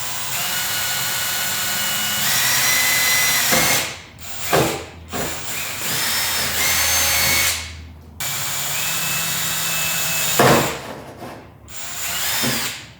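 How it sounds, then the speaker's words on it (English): Close, loud whine of a power drill spinning a 1/16 bit through a car body panel, running in long sustained bursts with brief pauses and clicks between holes. "say to start out with a 1/16 bit and then step it up from there"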